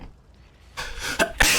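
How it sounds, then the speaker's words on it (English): A person with a sinus infection sneezes up close, a sharp burst preceded by a sniffing intake and followed by a second loud explosive sneeze. "sinus infection of some sort and it's making me sneeze"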